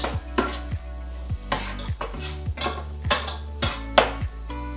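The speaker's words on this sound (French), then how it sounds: "Nous allons mélanger le tout et rajouter un peu d'eau." Food being stirred and mixed in a pan with peppers and garlic, a series of scraping utensil strokes against the pan at a steady rhythm over a faint sizzle, close and clear, with no voices.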